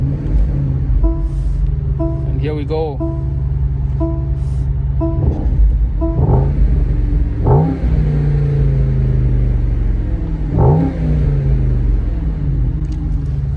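A 2023 Mercedes-AMG SL 63 fires up on a cold start, with a loud close engine flare and rumble settling into a deep idle with a few revving bursts. Someone speaks briefly at the start.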